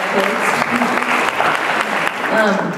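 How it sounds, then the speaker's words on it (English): A school community meeting audience gives a short, dense burst of clapping while a voice keeps talking over it. "Yeah, we can clap for them."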